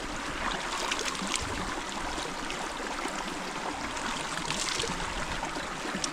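Steady outdoor stream of bathing water in Colorado, a continuous close trickling and rushing wash with no voices, holding even in level throughout.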